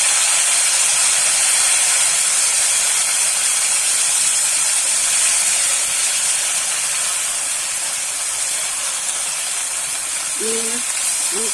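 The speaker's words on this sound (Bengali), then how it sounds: "এবারে বেটে রাখা মশলাগুলো দিয়ে দেবো" Ground spice paste hits hot oil in a pan during a rohu fish recipe, releasing a loud, steady, broad sizzling hiss that continues unbroken and eases off slightly near the end.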